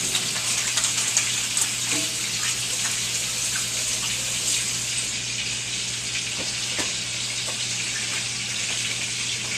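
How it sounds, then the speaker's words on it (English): Tap water runs steadily into a kitchen sink during a hand wash, a constant close hiss with a low hum beneath and a few faint clinks. "Wash my hands real quick."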